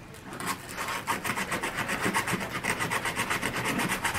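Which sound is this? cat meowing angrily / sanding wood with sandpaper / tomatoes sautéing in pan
sanding wood with sandpaper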